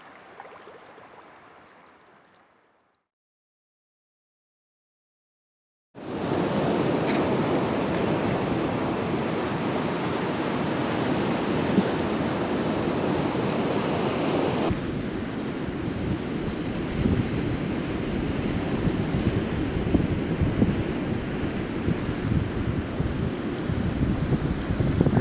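Sea waves break around isolated rocky islets in a continuous loud roaring wash with windy rumble, following a short quiet stretch at the start.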